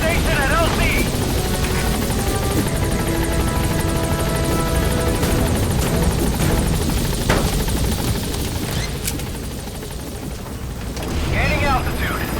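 The B-Quad support helicopter in Metal Gear Solid V arrives with a loud, steady rotor roar and engine drone that fills the whole stretch, dipping briefly near the end before swelling again.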